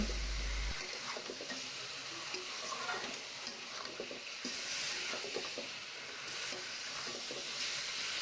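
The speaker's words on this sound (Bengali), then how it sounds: "এখন নাড়াচাড়া করে মাংসগুলোকে রান্না করে নেব" Mutton frying and being stirred in a pan over medium heat, a steady broadband sizzle with repeated scraping and clinking strokes of the spoon throughout, close and moderately loud with no talking.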